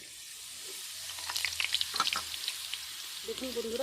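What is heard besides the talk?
boondi batter dripping through sieve into hot oil, frying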